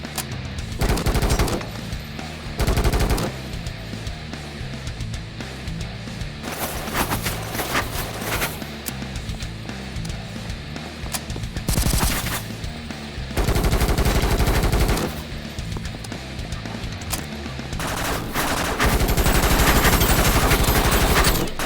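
Bursts of automatic gunfire ring out in a video game firefight, loud rapid volleys alternating with short lulls, sustained heavy shooting near the end.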